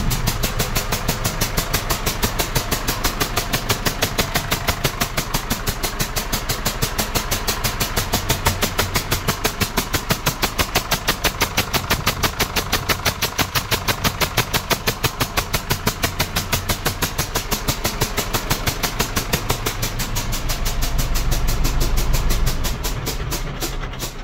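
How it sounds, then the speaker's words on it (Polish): Engine of an MTZ Belarus 1 tractor running steadily at idle with a fast, even mechanical chatter, loud and close for the whole stretch, a lower rumble swelling near the end. "Silnik MTZ."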